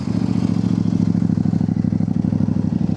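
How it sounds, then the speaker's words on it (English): A Kove 800X Pro motorcycle engine with stock exhaust idles loudly up close, its exhaust thumping in a fast, steady, throbbing rhythm without pause. "engine noise test. It's very loud. The stock exhaust"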